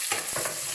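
Chopped onions and green chillies sizzling and crackling in a pan after mustard seeds have popped, a steady close frying hiss with brief stirring scrapes.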